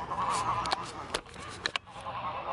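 Geese honk repeatedly outdoors at moderate distance, several sharp calls standing out over a steady background hum, with no talking.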